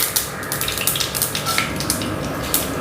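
Mustard seeds sputter in hot oil while tempering a spiced chana dal kozhukattai filling: rapid, irregular crackles and pops over a steady close sizzle.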